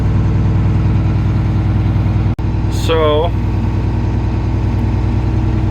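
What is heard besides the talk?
old tractor engine running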